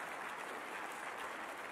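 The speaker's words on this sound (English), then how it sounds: "Round of applause." A crowd at an architecture recognition lunch applauds in a dense, steady wash of clapping, faint and distant, for under two seconds.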